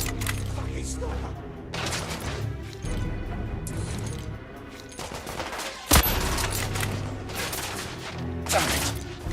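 Sustained gunfire in The Order: 1886, including sniper shots, keeps up across the scene with a sharp crack near the middle, loud and dense throughout.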